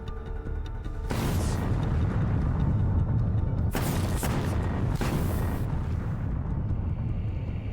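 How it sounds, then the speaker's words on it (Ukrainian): A low, continuous rumble is broken by several sudden heavy booms of explosions destroying an enemy vehicle in war, loud and roaring, one after another. "Кілька вибухів, і транспортний засіб ворога знищено"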